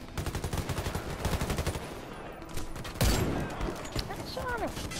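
Rapid gunfire from the online shooter Warface, with bursts of automatic fire and a louder shot near the middle, over a steady battle din while a voice talks and shouts throughout.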